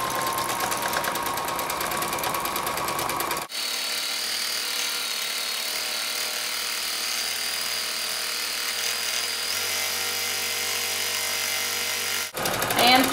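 A sewing machine runs steadily during free-motion quilting of an autumn table topper, a continuous close mechanical whir that shifts pitch partway through as the stitching speeds up, with brief talk at the start and end.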